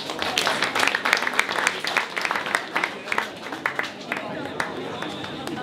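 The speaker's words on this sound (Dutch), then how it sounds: "Dus een hartelijk applaus voor Tatjana." Audience applause rises at a rebetika benefit concert in Paradiso, dense hand clapping from a crowd that tapers and thins toward the end.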